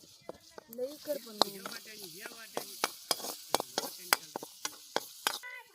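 Ginger, garlic and coriander paste sizzles in a pan over a stone village stove while a spoon scrapes and stirs in sharp, irregular clinks, and someone speaks over it.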